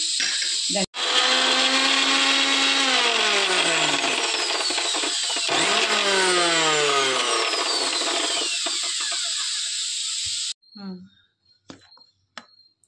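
A mixer grinder coarsely grinds fried green chillies, tomato and bottle gourd for chutney, its loud whining motor rising and falling in pitch for about ten seconds before cutting off, followed by a few faint clinks.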